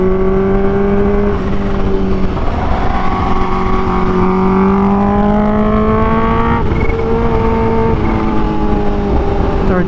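A supercharged 2023 Kawasaki H2 motorcycle engine accelerating, its loud, close tone rising steadily in pitch through the gears, with a quick shift break partway through.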